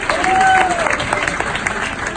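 A comedy club audience breaks into a short burst of loud, dense applause and clapping right after a set-up line, with some crowd noise mixed in.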